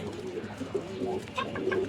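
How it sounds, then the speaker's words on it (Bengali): A male pigeon coos close by in a low, throaty burst, the soft rolling call rising briefly against a quiet room background. "এটা অনেক মারাত্মক ডাকে পুরো এই কবুতরটা"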